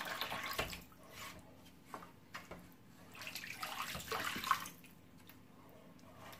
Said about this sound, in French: Avant de mettre les légumes, je prends un peu d'eau.